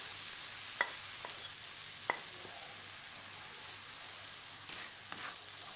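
Ground spices and tomato paste cook in a pan for a soybean curry, a faint low sizzle with a few light taps and scrapes of stirring at irregular moments.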